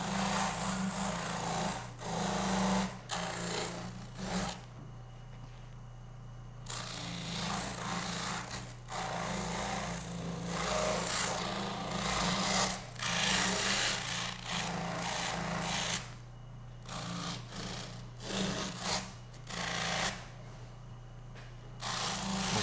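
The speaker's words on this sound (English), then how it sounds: "we're going to move back to the wheel one more time. Just removing any of the last little bit of meat" A rotary wheel grinds the last bits of meat from a full strut turkey's tail quills and coverts, giving a steady rasping whir with intermittent scraping bursts and brief pauses, close and continuous throughout.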